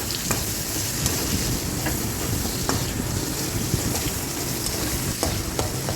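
Chopped onion sizzles steadily in a hot pan as it is stirred, a continuous frying hiss with faint scraping taps now and then, close by and without speech.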